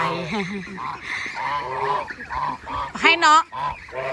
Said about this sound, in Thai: เห็นนะคะเขากำลังโดนฝูงห่านไล่ให้ออกไป